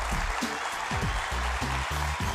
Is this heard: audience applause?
yes